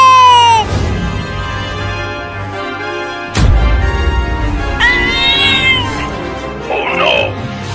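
An animated cartoon cat meows and yowls angrily in several drawn-out cries, loud and close, with a sharp crash midway and other cartoon sounds and voices around it.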